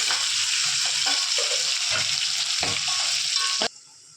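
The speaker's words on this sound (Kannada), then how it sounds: "ಈಗ ಎಲ್ಲ ಹಸಿ ವಾಸನೆ ಹೋಗುತ್ತಾನ ಫ್ರೈ ಮಾಡಿರಿ" Chopped onions with masala for egg biryani fry in a steady, loud sizzle, punctuated by a few stirring scrapes, before the hiss abruptly drops away near the end.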